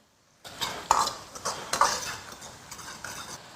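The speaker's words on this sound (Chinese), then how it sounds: "先把五花肉里面的油脂全部炒出来才香" Pork belly is stir-fried in a wok of leftover fish oil with Sichuan bean paste and chili powder, with repeated close spatula scrapes and metallic clanks in an irregular rhythm and no talking.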